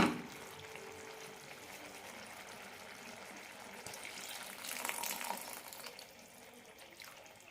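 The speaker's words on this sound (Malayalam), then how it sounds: "ഇനി ഇതിലേക്ക് പുളി ഒഴിക്കാം" Tamarind water pours softly into a pot of sweet potato curry, a gentle splashing wash that swells briefly and then eases, with no voices.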